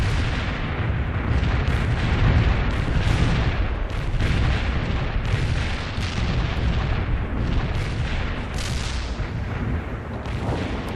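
Dense, continuous artillery barrage from the video game World in Conflict, loud overlapping booms and blasts rolling without pause through the whole stretch.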